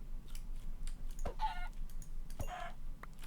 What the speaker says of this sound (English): let me go see if I can find some chickens